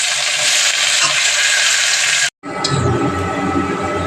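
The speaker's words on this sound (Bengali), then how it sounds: "পেঁয়াজগুলোকে একটু লাল লাল করে ভেজে নেব" Onions frying in a pan for a potato and green banana curry, a steady loud broadband sizzle that drops out briefly midway and then resumes.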